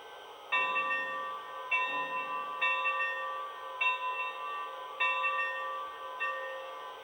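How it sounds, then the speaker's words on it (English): Model train bell from a Lionel Legacy Santa Fe 4-8-4 Northern steam locomotive, ringing about six evenly spaced metallic clangs with ringing overtones, clear and close with no talk. "Next, here's the bell."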